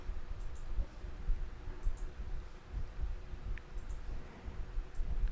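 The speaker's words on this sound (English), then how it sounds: "Double click on this and copy this." Soft computer mouse clicks, a few quick taps scattered across a quiet room hum, faint and close.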